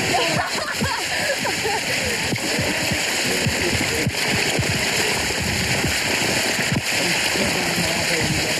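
Steady, heavy rain falls and splashes continuously and loudly, close by, with no pause from start to finish.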